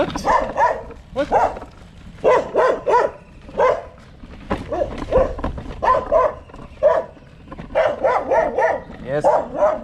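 In Egypt, dogs bark at people on bicycles, sending out rapid clusters of sharp, nearby barks and yips with brief gaps between volleys.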